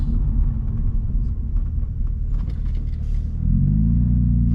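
Naturally aspirated, non-turbocharged 2003 BMW Z4 heard from inside while driving: a steady, loud low engine and road drone that rises slightly in pitch and strength near the end as the car pulls harder.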